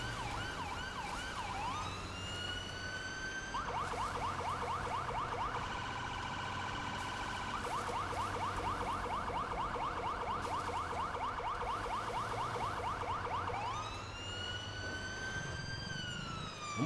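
An ambulance siren from GTA 5 wails continuously and close, cycling between rising sweeps and a fast yelp pattern with no talk over it.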